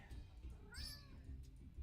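A pet cat gives one clear meow near the middle, rising and falling in pitch, over low room rumble and faint background noise.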